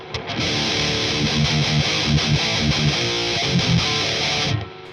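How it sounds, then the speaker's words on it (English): Dense, continuous distorted guitar amp noise from distortion pedals, heard close to the amp, with buzzing, sustained tones, loud and steady for several seconds before cutting off near the end. "I'll just turn on some different pedals in the front end. Just get some real noise going on."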